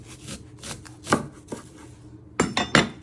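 A knife trims the ends of red onions on a board, producing several separate, crisp chops and knocks at uneven intervals, close by, with a cluster of quick cuts toward the end and no speech.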